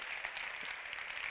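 Audience applause at a Campus Party talk on 3D printing, a dense steady wash of many hands clapping throughout, moderately loud with no speech over it.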